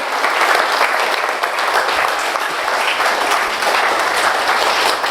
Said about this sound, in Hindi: अब जितनी ताली करोगे उससे पता लग जाएगा कि वाकई में बेस्ट ट्रेनिंग है या नहीं है।